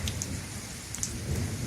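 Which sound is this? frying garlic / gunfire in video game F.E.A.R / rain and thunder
rain and thunder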